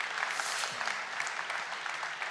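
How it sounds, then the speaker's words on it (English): Brief burst of audience clapping at a health and care research awards ceremony, a soft, even patter heard from a distance with no clear whoops standing out. "Let's give ourselves a clap and a whoop."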